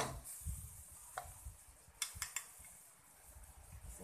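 Basil is stir-fried in a pan for Pad Krapow, a faint sizzle with soft scraping and a few light clicks of a utensil against the pan, quiet and close.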